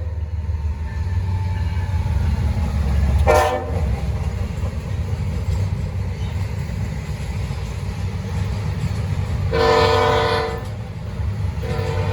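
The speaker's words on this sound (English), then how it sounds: "Northbound 917, loaded rail train." A heavy loaded Norfolk Southern freight rail train rumbles past steadily with a low continuous roar, and two short horn blasts sound, one early and a longer one later.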